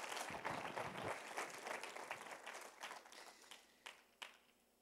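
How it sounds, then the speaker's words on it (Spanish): A church congregation applauds during a Spanish-language sermon, a dense wash of clapping that thins out and fades, leaving a few last scattered claps. "Da un aplauso al Señor."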